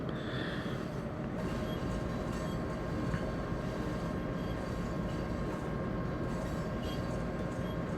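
A video game train engine drones at a constant level, a low continuous rumble with slight rattling and no one speaking.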